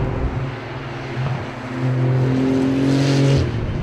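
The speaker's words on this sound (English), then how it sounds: "Listen to the sound of it. That beautiful flat six. Just wailing away with those turbos" A 2018 Porsche 911 GT2 RS turbocharged flat-six engine wails loudly and continuously, its deep droning note climbing in pitch as the revs rise, with no talk.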